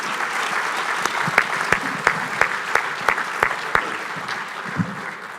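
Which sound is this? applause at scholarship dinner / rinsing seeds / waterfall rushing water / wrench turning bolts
applause at scholarship dinner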